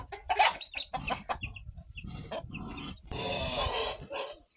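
Chickens clucking and calling in a farmyard with poultry and ducks nearby, a series of close, sharp clucks and squawks that runs into a longer, noisier burst of flapping or cackling near the end.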